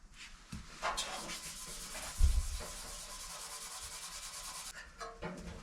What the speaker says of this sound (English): I've got a little Scotch pad here, so I'll start getting this scratched up and ready for primer.